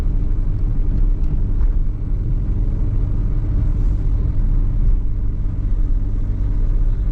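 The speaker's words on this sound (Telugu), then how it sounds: "ట్రాఫిక్ బాగానే ఉంది" Steady road traffic rumbles near a village fairground ahead of the Mini Medaram Jatara, with continuous low engine noise and cars passing at a constant level and no speech.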